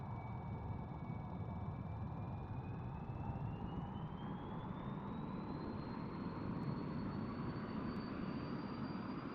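The jet engine of an F-100D in the DCS video game throttles up, a steady loud roar with a thin whine that climbs slowly in pitch and holds high near the end.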